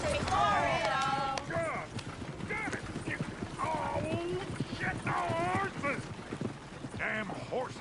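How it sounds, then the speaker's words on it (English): Horses in the Red Dead Redemption 2 game, heard as hoof clip-clops with whinnying calls mixed among talking voices and game sounds, fairly close and busy. "Damn horses!"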